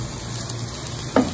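Tomato paste and green chilies frying in a pan with minced meat for a spicy potato lasagna, a dense steady sizzle close by with one brief stirring scrape near the end.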